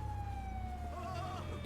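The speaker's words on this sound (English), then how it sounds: "I can hear sirens going on." Police sirens wail in the GTA 5 video game, a sustained wavering electronic tone that drifts slightly downward, heard at a distance over a steady low hum with no talking.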